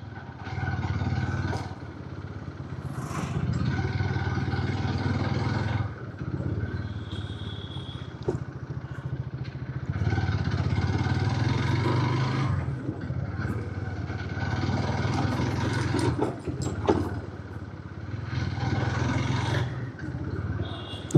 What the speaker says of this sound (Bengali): হিরো এক্সট্রিমে আমি যখন এই যে একটু একটু ভাঙাচোরা রাস্তার মধ্যে চালাচ্ছি